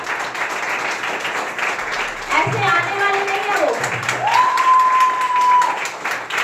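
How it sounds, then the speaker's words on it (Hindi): Loud applause from an audience at a corporate event in Delhi, steady clapping throughout, with a voice speaking over it partway and some tonal music or feedback sounds layered in. "जोरदार तालियों से स्वागत करेंगे मनोज सर जी का"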